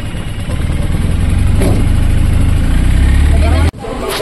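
A car engine runs close by with a steady low rumbling hum, then cuts off abruptly near the end.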